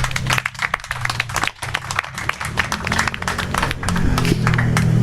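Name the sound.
applause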